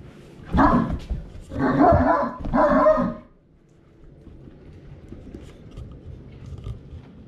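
A Great Dane barks in three loud, close bursts at young kittens, then falls quiet, leaving only low room noise.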